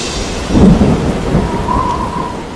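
Thunder rumbles close and heavy over steady tropical storm rain, with the deep roll swelling then fading beneath the continuous patter; no voices.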